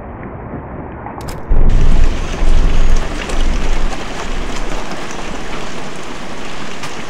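Heavy rain pours down in the horror video game The Glass Staircase, starting quietly and then bursting into a loud, dense, continuous hiss with low rumbling, no talk.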